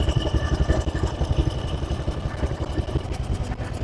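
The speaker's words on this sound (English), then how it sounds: "So this is the longest ride the car has done in probably 45 years." The engine of a 1906 Sizaire-Naudin antique car runs close by with a loud, throbbing, uneven low chug that holds steady throughout, and no one speaks.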